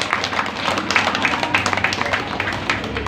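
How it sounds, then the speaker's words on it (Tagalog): Scattered, uneven clapping from a church audience during a sermon, a loose patter of individual claps of moderate loudness rather than full applause, with faint crowd murmur beneath. "Patak-patak na naman yung kanilang palakpak."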